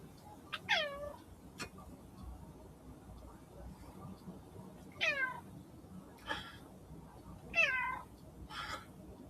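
A cat meows three or four times in short, rising-and-falling calls spaced a few seconds apart, fairly close but not loud, over a low murmur of room noise.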